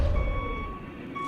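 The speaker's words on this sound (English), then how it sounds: "Now boys, back up the cocktail truck." Truck reversing beeps from a backing-up truck, a steady high electronic tone held across the clip over low rumbling engine noise, fairly close and loud.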